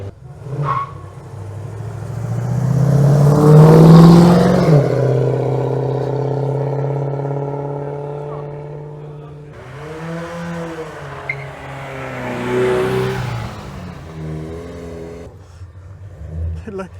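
A car engine revs and surges loudly at a hillclimb at Shelsley Walsh, its pitch climbing and falling, followed by a second rising rev, with people talking over it.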